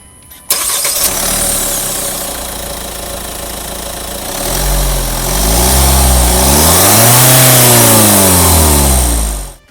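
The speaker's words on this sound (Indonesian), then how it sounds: "kita sekarang pengen coba startup dulu untuk denger mesin diesel yang menjadi salah satu daya jual terbesar dari si Staria" A Hyundai Staria with a 2.2 CRDi turbo diesel engine is started up, a sharp crank and catch followed by a steady clattering idle, then two rising and falling revs of the engine, loud and close.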